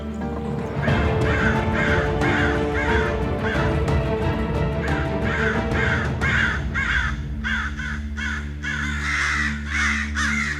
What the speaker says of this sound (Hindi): इतने कौवे और वो भी इस समय